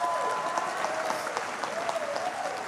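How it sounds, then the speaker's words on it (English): Audience applause at a high school graduation ceremony, a steady, dense wash of many hands clapping at once, sustained and fairly loud throughout with no voices standing out. "clap for your school"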